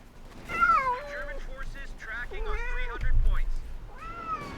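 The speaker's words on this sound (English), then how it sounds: "Cat just jumped from the table onto my shoulder." A cat meows several times in a row, drawn-out, wavering cries close by, with low rumbling game noise underneath.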